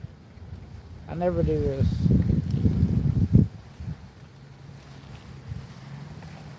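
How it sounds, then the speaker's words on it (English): Gusty outdoor wind buffets the microphone as low rumbling under a man's close speech, then continues as a softer steady rumble once he stops talking. "This wind's got me messed up."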